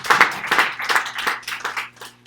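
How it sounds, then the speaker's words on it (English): A small audience gives a brief round of applause, a scattering of separate claps close by that thins out within a couple of seconds. "Applause."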